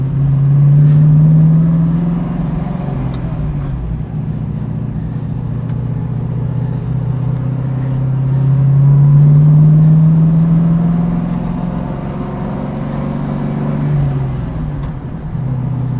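A 1967 Pontiac Firebird on its first road drive gives a deep engine drone that rises and falls with acceleration, heard from inside the car without any talking.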